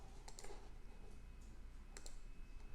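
Mouse buttons click a few times while working in accounting software, producing faint, sharp ticks in pairs over a quiet room hum.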